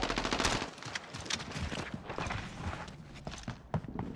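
Rapid automatic gunfire and bursts of shots from a Call of Duty match, dense and continuous, mixed with footsteps and game effects, with no speech.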